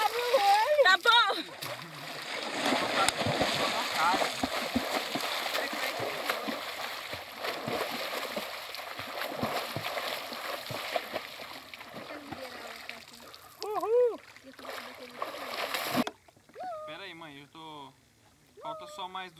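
People splash around and dive into cold water outdoors on a farm, with continuous sloshing and a few bigger splashes under excited shouting and talk throughout.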